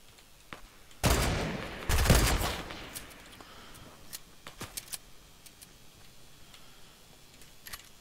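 Gunfire in Fortnite: two loud, close bursts of rapid shots in quick succession, followed by scattered fainter cracks and ticks.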